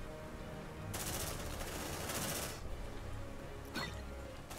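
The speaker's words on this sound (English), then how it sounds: "Oh, okay, shotgun." Shotgun fire and combat noise from the sci-fi game Aliens: Dark Descent, with a loud sustained burst of blasts for about two seconds over a steady rumbling background, followed later by a single shorter sharp shot.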